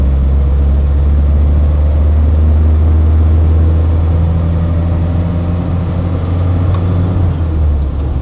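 A Land Rover 110 CSW running and driving, its engine a loud, steady low drone with rumbling mechanical texture, heard close and continuous throughout with no talk.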